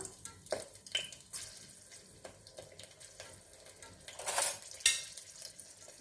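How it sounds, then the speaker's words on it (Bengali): Mustard seeds and dried red chili, plus a split green chili, crackle and sizzle in hot oil for tempering a mango dal, with sharp pops and spattering bursts over a steady frying hiss, fairly close and without talk. "আর এর মধ্যে সর্ষেগুলো দিয়ে দিলাম, সর্ষে ফোড়ন দিচ্ছি, সর্ষে ফোড়ন"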